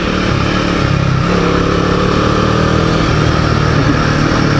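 A Royal Enfield Himalayan 450 motorcycle rides along a rocky track, its engine droning loud and continuous under heavy rushing wind noise.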